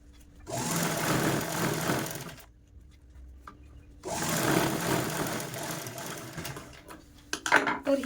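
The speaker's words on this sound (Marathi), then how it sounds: "आता हिच्यावरती पण आपल्याला अशी दाबटीप देऊन घ्यायची आहे." A sewing machine topstitches a zip onto a fabric bag, running in two steady, close whirring bursts separated by a short pause, followed by faint clicks as the fabric is handled.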